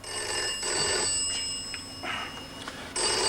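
A telephone in a TV sitcom rings in repeated electronic trilling bursts, with short pauses between rings, clear and fairly close.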